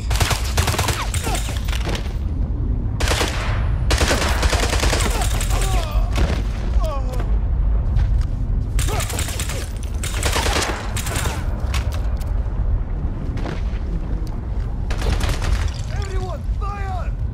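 Gunfire in the James Bond 007: Blood Stone video game, loud bursts of rapid shots and booming blasts repeating through the scene, with shouted voices and effects mixed in.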